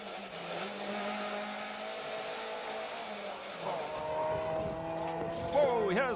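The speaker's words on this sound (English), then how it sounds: "Race leader Grant McCleary, hard at work in the Opel Astra" A touring-car race with an Opel Astra: a steady engine drone holds throughout, rising and shifting in pitch as the car accelerates and works through the gears, loud and continuous under faint background noise.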